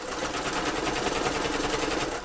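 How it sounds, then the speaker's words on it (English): A sewing machine stitches steadily at close range with a fast, even mechanical chatter and no talk over it. "Just sitting here watching somebody sew on a damn sewing machine."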